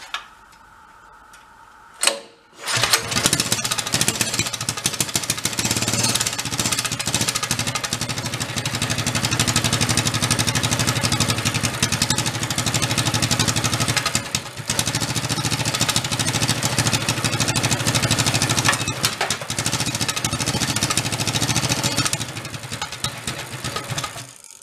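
Cold start of a big engine fitted in a tiny 1960s Corvair Monza toy car, on choke with a little throttle: a brief crank, then a loud, steady, rapid ticking idle that runs on close up with small dips.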